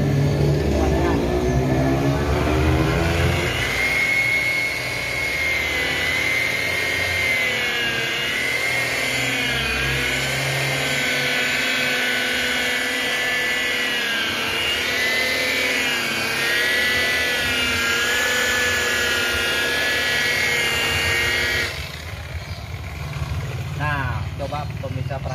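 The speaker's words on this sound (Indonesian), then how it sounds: "Nah, kita sekarang pakai mesin pemirsa ya." A polishing machine buffs a scratched car headlight lens, giving a steady, loud motor whine with a wavering pitch that runs nearly throughout and then stops abruptly near the end.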